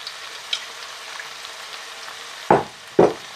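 Eggplant and zucchini fry in olive oil with a soft, steady sizzle, and two sharp scraping knocks of a utensil come as the pan is stirred near the end.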